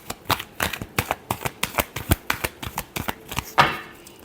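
Tarot cards being shuffled, a quick run of crisp riffling flicks in an even rhythm, close and fairly loud, ending on one sharper slap and brief rustle of the deck.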